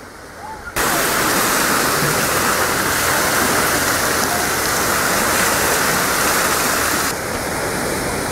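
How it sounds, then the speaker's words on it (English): Loud, continuous rush of water splashing and pouring in a big fountain on the Boise River Greenbelt, a dense hiss that starts abruptly and holds steady. "We've also got a really nice big fountain here."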